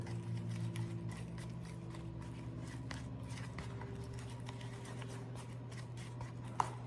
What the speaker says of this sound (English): Try to mix it up to get all the crumbs out, all the batter in there.